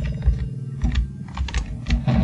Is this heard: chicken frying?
no